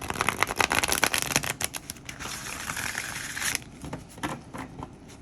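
Cards riffled and shuffled close up, a fast flurry of papery snaps followed by a rushing bridge and a few softer taps.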